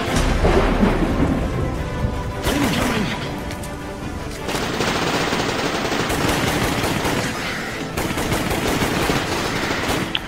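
Rain and thunder in the video game Orion: Prelude make a loud, continuous rushing downpour with rumbling booms, mixed with sharp game gunfire bursts throughout.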